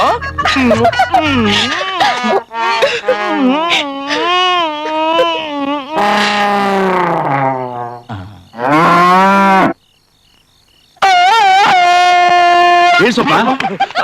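A buffalo gives a loud, drawn-out moo during a Telugu film comedy scene, with several cut-in calls set among lively dialogue and music, one long call standing nearly alone near the end.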